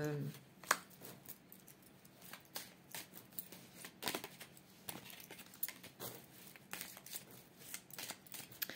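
Oracle cards are shuffled by hand before one is drawn, giving soft, quick riffling and papery flicks in irregular bursts, close and fairly quiet.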